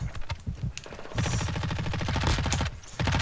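Warzone 2 video game gunfire as a player shoots an enemy: rapid automatic bursts, loud and close, with a brief pause before a long sustained volley.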